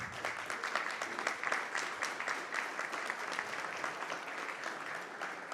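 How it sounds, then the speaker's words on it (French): A small audience at a tech conference talk applauds the speaker, a dense patter of claps holding steady for several seconds without a voice over it. "Je pense qu'on peut applaudir notre speaker."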